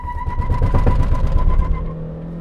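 A 2011 Kia Soul with a five-speed manual launches hard with wheel hop, a loud close engine roar overlaid with a rapid shuddering judder from the driveline, fading as it settles.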